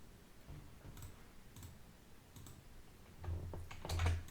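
A computer keyboard is typed on while folders are being created, with sparse, quiet clicks and taps scattered across a faint background, a little louder toward the end.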